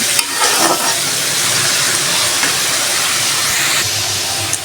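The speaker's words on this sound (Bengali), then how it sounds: "পাস্তা বানানোর জন্য গাজরটা এখন ভাজি করে নিচ্ছি" Carrot frying in a pan for pasta gives a steady, loud sizzling hiss with stirring noises, close by and continuous, with no talking.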